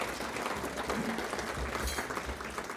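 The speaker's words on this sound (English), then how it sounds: "you deserve a round of applause for having gone through all of this" Banquet audience at a closing dinner applauding, a dense, continuous patter of many hands at moderate distance, steady for the whole stretch with a low hum of room noise underneath.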